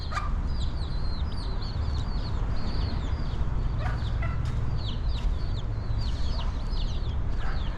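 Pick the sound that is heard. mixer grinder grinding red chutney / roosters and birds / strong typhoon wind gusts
roosters and birds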